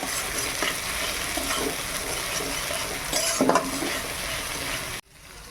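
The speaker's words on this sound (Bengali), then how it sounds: "মশলাটা আমি 2 মিনিট নেড়ে নিয়েছি।" Spices stirred and fried in a pan over low heat for a drumstick curry, a steady close sizzle with scraping stir strokes and a brief louder clatter before the sound cuts off.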